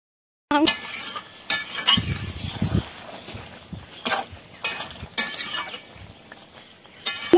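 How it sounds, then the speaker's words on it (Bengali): Lentil fritters go into a simmering vegetable curry, with stirring, soft sizzling bubbles and occasional clinks of a spoon against the pot, close by and without talk. "দেখো আমার তরকারিটা ফুটে গেছে, এখন দিয়ে দেবো এই যে ডালের বড়া"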